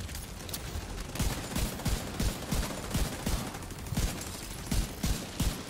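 A deployed turret in The Division 2 fires repeated bursts of gunfire at a steady, uneven rhythm, with sharp shots popping over a dense background of game combat noise.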